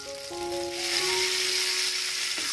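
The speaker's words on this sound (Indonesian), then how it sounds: "Selanjutnya, panaskan minyak." Oil heats in a pan for sambal; it was previously used to fry shallots and chilies. A steady, close sizzle hisses throughout and swells slightly partway through, with a faint tone in the background.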